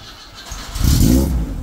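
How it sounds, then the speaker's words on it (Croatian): A Zastava 750 (Fića) small car engine cranks and catches, a rising low rumble building from quiet into a steady close idle with a brief rev, no talk over it. "pali se mašina"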